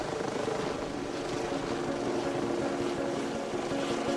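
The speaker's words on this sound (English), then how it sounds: "The Westpac chopper has made the 45-minute road journey in a third of the time" The Westpac rescue helicopter flies with a constant loud thrumming rotor and engine drone that holds steady throughout, with no voices.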